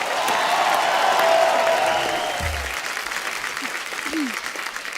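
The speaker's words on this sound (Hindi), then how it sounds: "नोरा के लिए जोरदार तालियां।" Loud, dense studio-audience applause greets actress Nora Fatehi's entrance on a comedy talk show, holding steady for several seconds before easing slightly, with a brief voice heard beneath it.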